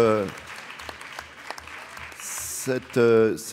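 Audience applause closes a lecture on historical forms of labour and slavery, a short burst of clapping that swells to loud. Speech is heard just before it and again as it fades.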